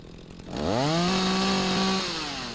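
A chainsaw in the game Rising World starts up and revs into a loud, sustained buzzing drone, its pitch rising and then holding steady before it eases off slightly at the end.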